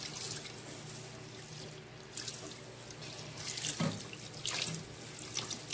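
Rice is rinsed under a running kitchen tap, giving a steady, quiet stream of water into a sink with intermittent splashing and swishing as the grains are stirred by hand.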